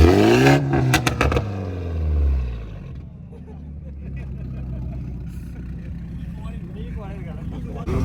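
Toyota Supra at a car show, a build making around 800 hp to the wheels, revs loudly in a sharp rising burst with a quick rev flip, then settles into a rough, rumbling idle under background crowd noise and voices.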